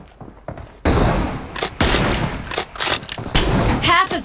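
Rapid volleys of gunfire ring out in an online shooter match, loud and close, with sharp repeated shots and bursts stacking over one another across the whole stretch.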